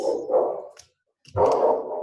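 A pet dog barks indoors during a live video call, two short bursts separated by a silent gap, fairly loud and close.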